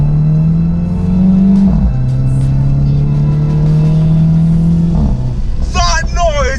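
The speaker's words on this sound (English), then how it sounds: "ridiculous. The pops and bangs." A Mini Cooper S convertible with a Remus catback exhaust holds a loud steady engine drone, drops briefly, then lets off with a few sharp crackling pops and bangs near the end.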